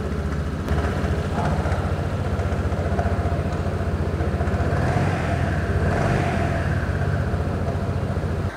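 A 2022 Keeway Vieste 300 scooter with a liquid-cooled 280 cc engine idles nearby, a steady, even low drone that holds unchanged throughout.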